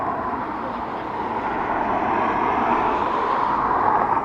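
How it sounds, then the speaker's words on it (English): Turkish Airlines jet arriving from Istanbul at Dublin Airport, a steady broadband engine roar that swells gently over a few seconds, heard from a distance. "this is our Turkish Airlines coming in from Istanbul"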